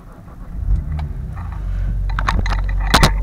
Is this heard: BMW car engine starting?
yes